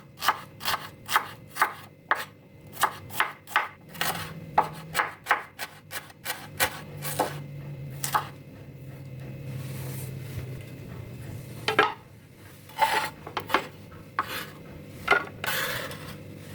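Shallots and garlic sliced thin with a knife for sayur lodeh, a fast run of sharp, close chopping taps on a board that break into separate bursts with short pauses and softer scraping in between.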